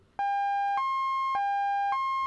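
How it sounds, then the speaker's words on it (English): A bright, buzzy synth lead with a detuned second oscillator, gently filtered at 12 dB, alternates between two pitches in a steady pattern, each note sustained with a sharp attack, loud and alone. "we've added a second oscillator, which is detuned, and this makes our lead sound a bit more thicker"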